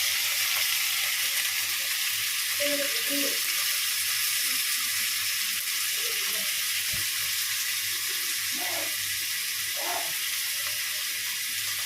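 Soaked wheat-flour chow mein noodles fry in a pan with a constant loud hiss, broken by occasional soft knocks and scrapes of stirring.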